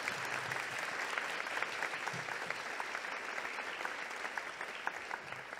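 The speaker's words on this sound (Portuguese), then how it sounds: "Uma salva de palmas." An audience at an architecture triennial event in Brazil applauds steadily, with dense, continuous clapping from a sizable crowd heard from a moderate distance for the whole stretch.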